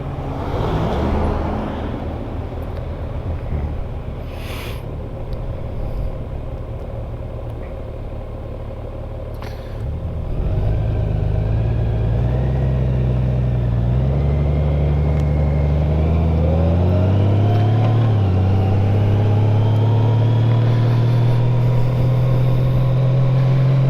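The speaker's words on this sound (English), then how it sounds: "this way the gentleman in the truck can go" A truck rumbles past a motorcycle pulled over at the roadside, its engine note rising and growing louder and nearer through the second half, with a steady idle underneath.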